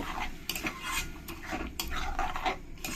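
A spoon scrapes and clinks against a pan while mushroom masala spice paste is stirred and fried with a little water, giving repeated close metallic taps and soft sizzling.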